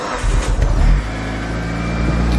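A Mitsubishi Evo 8 engine catching after eight years unused, a rough burst of cranking and revving that settles into a steady, close idle hum.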